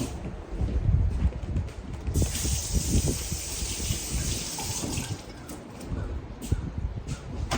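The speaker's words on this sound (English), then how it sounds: "We'll wash this slime off my hands." Slime being rinsed off hands under a running tap, a steady hiss of flowing water with splashing near the microphone, with a brighter spray entering partway through and continuing to the end.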